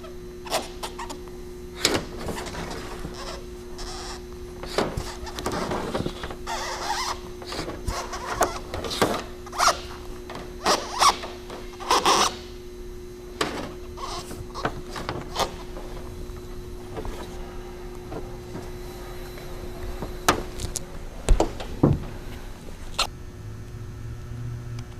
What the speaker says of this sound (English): I shimmy the tool back and forth to help me go around the radius to open up that channel to accept this locking strip